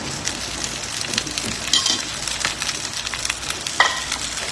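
Food fries in a little oil in a pan with a steady, close sizzle, broken by a few light stirring scrapes and clinks.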